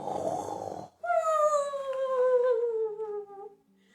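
A voice imitates snoring: a rough inhaled snort followed by a long, drawn-out whistling exhale that slowly falls in pitch.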